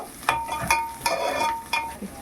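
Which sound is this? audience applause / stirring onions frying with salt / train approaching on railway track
stirring onions frying with salt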